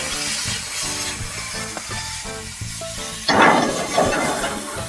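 Shell-on shrimp hit a hot cast iron pan and sizzle, a continuous bright hiss with a louder crackling burst partway through, close and steady with no talking.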